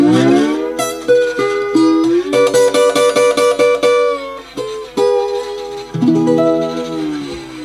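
Slide guitar in open E tuning plays a bluesy phrase, notes gliding between pitches with a bright ringing tone, rhythmic picked chords and sliding swoops, close and loud with no talking.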